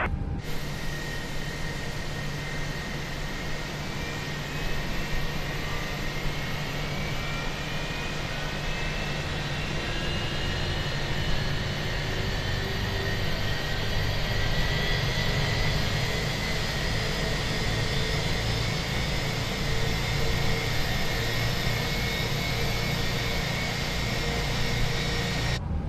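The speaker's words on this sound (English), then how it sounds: "Starting engine 1." A Fenix A320 airliner engine spools up during start in a flight simulator, a steady broad roar with a slowly rising whine building over the whole stretch, loud and continuous with no talk.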